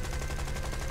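Rapid machine-gun fire from aircraft in the video game War Thunder, a dense continuous burst of evenly spaced shots filling the whole second, loud and close.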